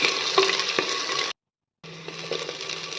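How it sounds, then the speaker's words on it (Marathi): Onion, garlic and curry leaves fry in a pan for a Khandeshi varan dish, giving a close, steady sizzle with a few scraping stirs, broken by a brief silent gap midway before the frying resumes. "नंतर कांदा टाकलेला आहे आपण कांदा छान लालसर घ्यायचा आहे"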